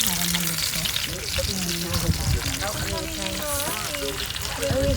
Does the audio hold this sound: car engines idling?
no